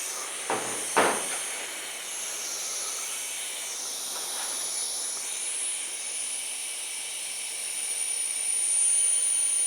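Compressed CO2 gas escaping from a frosted tank during a teardown: a steady, broad hiss that runs throughout after two short knocks at the start, fairly loud and with no talk.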